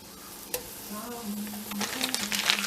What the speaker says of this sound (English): So the lardons are going in.